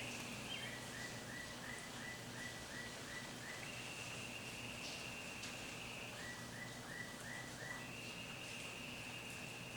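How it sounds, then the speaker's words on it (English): Steady soft rainfall hiss with repeated chirping bird calls in the background, quiet and continuous throughout. "Hearing the birds, hearing the rain."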